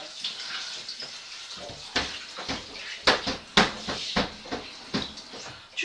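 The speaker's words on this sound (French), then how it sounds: "Et là, je vais rincer ma lavette." A washcloth being rinsed under running water at a sink, with a steady faucet stream broken by irregular splashes and wringing sounds, close and moderately loud.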